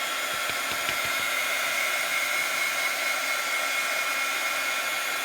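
A hair dryer blows continuously at close range to dry paint on an art journal page, giving a loud, even whooshing roar with a steady motor whine and no speech.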